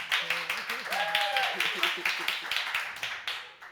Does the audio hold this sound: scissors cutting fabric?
no